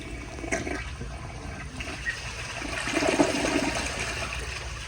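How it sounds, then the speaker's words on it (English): A 2002 Kohler Santa Rosa Ingenium one-piece toilet flushes on a wet floor, giving a steady rushing swirl of water that swells toward the end, heard alone with no voices. "here is a flush."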